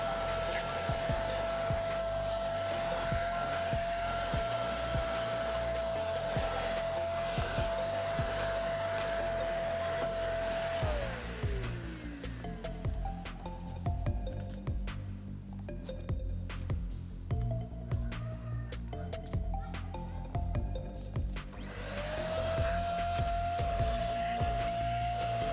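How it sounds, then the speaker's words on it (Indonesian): A Deerma DX7 vacuum cleaner works through the interior of a Hyundai Avega car, a loud steady motor whine that dips and shifts in pitch as the nozzle moves over seats and trim. "Pastikan nggak ada yang terlewatkan dari vacuum cleaner biar disedot semua debunya."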